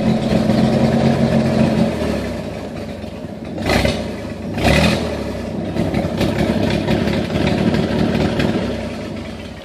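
A car engine running after being fitted with bigger fuel injectors, a loud close rough idle with a steady drone, briefly dipping and surging twice midway before settling back into an uneven hum.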